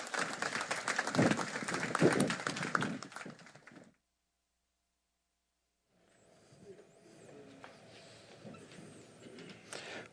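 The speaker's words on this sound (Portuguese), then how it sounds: "Um aplauso e boas-vindas." Audience applause in a lecture hall as the journalist Eugênio Bucci is called to the stage at a Café Filosófico talk in Campinas; a dense burst of clapping that fades into silence, then low room murmur follows.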